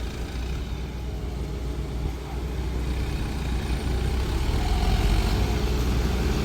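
At a sugarcane harvest field, a truck hauling an eight-ton sugarcane cart rumbles with a steady, heavy low engine drone that grows slightly louder over time, with no talk.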